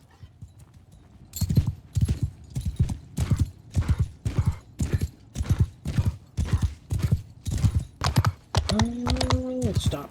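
Horse hooves galloping in the video game Bannerlord, a steady rhythmic clip-clop of strong hoofbeats close up, with a brief whinny-like tone near the end.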